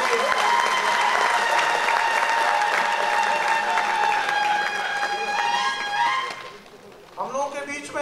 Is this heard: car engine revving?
no